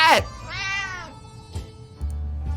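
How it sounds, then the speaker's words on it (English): An angry house cat in the video game 60 Seconds lets out a harsh, rising-then-falling meow, loud and close, followed by a quieter second yowl and a short caterwaul. "When the beast finally escaped, it turned out to just be some angry house cat."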